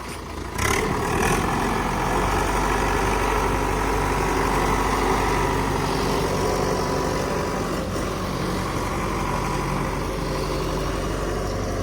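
A tractor engine labours to pull a loaded trolley, running as a loud, steady low rumble close by for the whole stretch, with a short rise in effort near the start.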